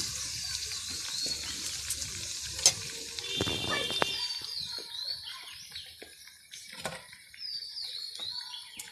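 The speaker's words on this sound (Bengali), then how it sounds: "এই দেখো বন্ধুরা, তোমরা এইভাবে লাল লাল করে ভেজে নেবে।" Bread snacks deep-frying in oil until reddish, a bubbling sizzle that slowly softens, punctuated by a few clinks and faint chirps in the background.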